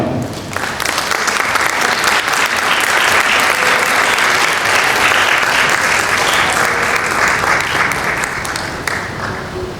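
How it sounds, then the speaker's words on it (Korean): An indoor audience at a Korean business association's presidential inauguration ceremony claps in thanks, dense sustained applause rising quickly and holding loud for several seconds before easing slightly. "감사의 박수 한번 부탁드립니다"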